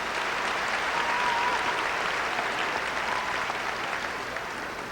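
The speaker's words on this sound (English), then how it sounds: "Please give him a round of applause." A large audience at a 1987 Democratic primary candidates' debate in Iowa applauds for the chairman in a dense, steady wash of clapping that tapers slightly toward the end.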